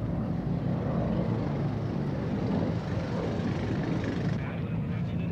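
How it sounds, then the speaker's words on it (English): American helicopters pass overhead during the 1975 evacuation of Saigon, a steady, loud rotor and engine drone that fills the whole stretch, with a voice talking over it. "the last flights of American helicopters passed overhead"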